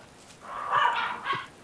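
Dogs in the survival game DayZ bark twice, fairly faint and muffled, within a second, over a low hissing background with no one speaking.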